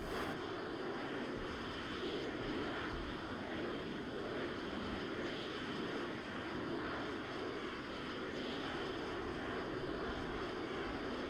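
A jet plane engine in the Arma 3 video game roars steadily for the whole stretch, a dense, broad rushing drone with no breaks and no talk over it.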